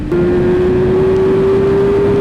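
A tuned 2005 Suzuki GSX-R 600 sport motorcycle engine holds a loud, steady high-rev drone with a slowly rising pitch, close to the microphone and with no talking.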